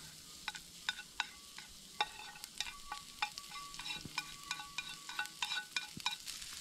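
Onion and garlic frying in a camp pan with leftover steak juices, a busy crackle of spitting pops and repeated stirring scrapes, close and steady throughout.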